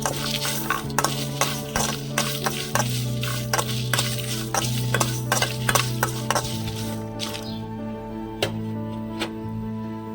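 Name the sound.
dry red chillies and sesame seeds roasting in a pan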